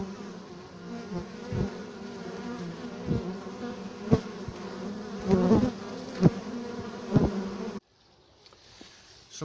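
Honeybees buzzing around the hives at an apiary, a steady dense drone with several louder swells as bees fly close past, then dropping to a quieter hum near the end.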